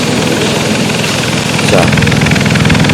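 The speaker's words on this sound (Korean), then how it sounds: "여기서 배기음 이 소리를 들을 수 있겠습니까?" Car exhaust at idle, recorded with a microphone at the tailpipe of a car flagged with fault code P2096 for a lean post-catalyst mixture, a loud steady rumbling drone with a brief spoken word over it.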